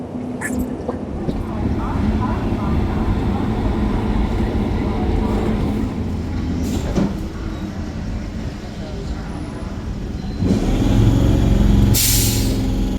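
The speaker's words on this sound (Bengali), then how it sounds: "আমাদের ট্রেন বর্ধমান হাওড়া লোকাল প্রবেশ করলো 6 নম্বর প্ল্যাটফর্মে শেওড়াফুলি স্টেশনের" A Bardhaman–Howrah local train rolls into platform 6 at Sheoraphuli station at night, a continuous heavy rumble with a hiss of air brakes rising toward the end, people's voices audible beneath.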